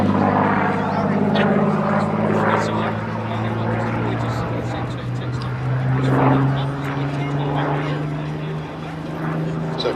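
Piper Cub propeller plane flying over Duxford airfield, a steady droning engine with a sustained low hum that shifts in pitch as it passes, loud and continuous under someone talking.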